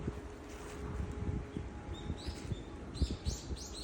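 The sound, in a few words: birds singing in an autumn forest in Japan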